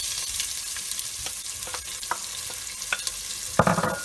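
Onions frying in hot oil already fragrant with spices, for a red lentil dhal: a steady crackling sizzle with scattered sharp pops and a louder burst of spatter near the end, no voices.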